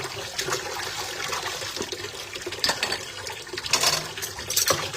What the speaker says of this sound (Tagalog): Marami pang hugasan na plato dyan sa inyong mga bahay. Maghugas din kayo katulad ng ginagawa ko ngayon